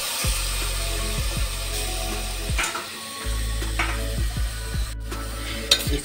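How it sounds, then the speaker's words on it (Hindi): Mixed vegetables (cauliflower, beans, potato and tomato) with pav bhaji masala are stirred in a pan, a spoon scraping the metal in repeated strokes over a soft, steady sizzle. "इसको हम पहले थोड़ा सा स्टर कर देंगे, ताकि ये जो मसाला मैंने पाव भाजी मसाला इसमें डाला है वो सब्जियों में एब्जॉर्ब हो जाए।"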